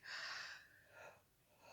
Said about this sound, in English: Oh, excuse me. I know yawns are contagious.